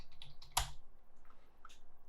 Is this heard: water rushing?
no